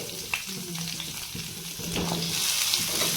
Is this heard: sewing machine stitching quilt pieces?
no